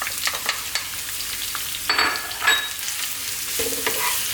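Chunky garlic, ginger and sliced onions fry in a pan over above-medium heat, with a close crackling sizzle broken by bursts of louder scraping and tossing as the pan is stirred, with no talking.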